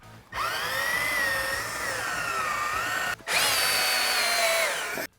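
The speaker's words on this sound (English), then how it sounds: "then we're gonna need to drill a hole just big enough for these 3/4 inch diameter spacers to fit through" A power drill bores holes in a rack bracket in two loud, close bursts of high motor whine, the pitch wavering under load, separated by a brief pause, with no talk.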